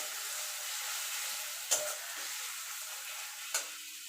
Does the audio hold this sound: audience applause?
no